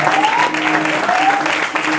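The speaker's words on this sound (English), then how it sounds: "Can we give Brother David another hand?" A church congregation claps steadily for Brother David during a Youth Sunday service, dense applause filling the whole moment with a faint sustained tone and murmuring voices mixed in.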